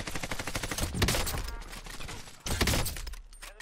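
Rapid automatic gunfire in Call of Duty Modern Warfare, loud close bursts of overlapping shots with a couple of heavier impacts, continuous and chaotic, no speech.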